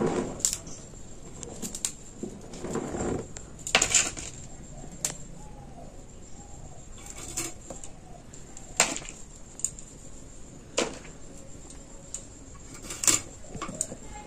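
A knife cuts through fresh home-grown cauliflower with a series of crisp, sharp snaps at irregular intervals, close by and fairly quiet, with soft background noise between the cuts.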